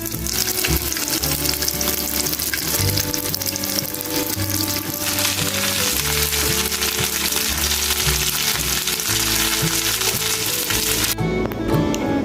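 Sliced eggplant for tortang talong hisses and sizzles steadily in hot oil from start to finish, partly buried under continuous background music.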